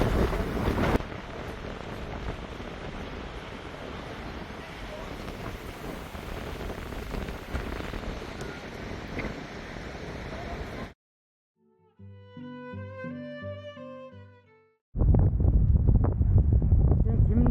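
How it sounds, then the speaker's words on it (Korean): Strong gusting wind buffets the microphone while cycling the Jeju coastal bike path, a loud continuous roar for about eleven seconds, then a brief quieter musical interlude before the heavy wind noise returns. "바람이 너무 세게 불어 가는데 시간이 좀 걸릴 것 같습니다."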